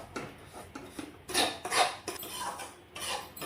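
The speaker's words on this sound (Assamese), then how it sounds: "দুইটা মিক্স কৰি লৈ ধুনীয়াকৈ ভাজি লওঁ" Semolina fries in ghee in a pan while a metal spoon stirs it. Scattered clinks and scrapes of metal against the pan come at an uneven rhythm, close and fairly quiet, with no sizzle to speak of.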